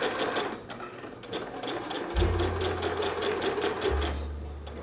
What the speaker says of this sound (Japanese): 2本目はこの真ん中ぐらいの位置を目指してギャザーミシンをかけていきます。